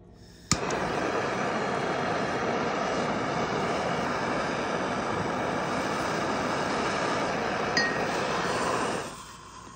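Torch flame heating a 1 oz copper coin ring for annealing gives a loud, steady roar that starts with a sharp click, carries a faint clink near the end, then cuts off.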